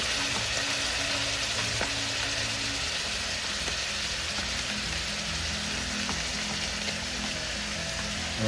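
String beans (sitaw) hit a hot pan of cooking crab and squash, giving a steady, dense sizzle and frying hiss that runs throughout at close range, with no talking.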